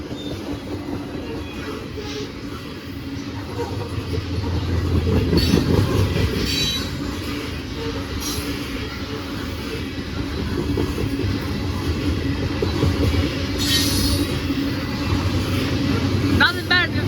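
Two Conrail locomotives passing on a freight train, a steady heavy rumble with rolling wagon clatter and occasional wheel squeal, loud and close throughout, with someone talking over it.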